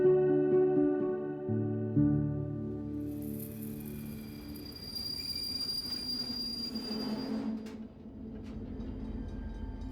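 The Eastern Express passenger train running on rails in Turkey, with a loud tonal wheel squeal at the start giving way to steady rolling rumble and rattling of the carriages.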